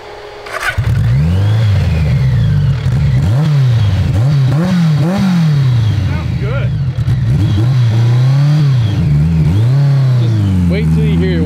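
A 1000cc BMW-engined trophy truck on a new transmission starts up and revs hard and close, its engine rising and falling repeatedly under a high transmission whine, with people talking at times.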